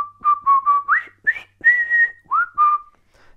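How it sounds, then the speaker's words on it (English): Person whistling a short tune in a saxophone lesson, close and clear, a run of bright pitched notes with small slides and a few held tones, separated by brief breaths and gaps, with no talking. "Just whistle."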